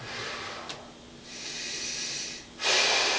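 Forceful breaths out during a standing cable push exercise: close, airy hisses, with one long exhale followed by a louder, sharper one, and no talking.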